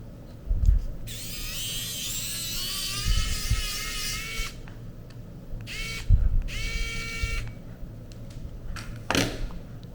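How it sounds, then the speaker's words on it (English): A small electric screwdriver whirs in several bursts while backing screws out of a Hoto glue gun, rising and falling motor whine close up with clunks and handling noise between runs. "Just unscrew them first and try and get the screws out carefully."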